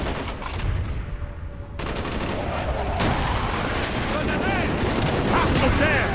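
Rapid gunfire rattles through a Call of Duty: Black Ops campaign mission, bursts of automatic weapons and sharp shots layered densely over battle ambience, loud and continuous, with soldiers' radio-style voices mixed in.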